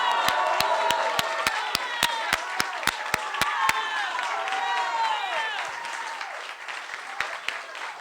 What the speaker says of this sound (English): give the warmest applause to welcome our chairman, O'Malley Ishitela